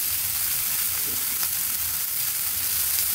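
Shrimp mash with chopped coriander leaves sizzles steadily in a hot pan, a close, continuous fry with occasional stirring and no talking.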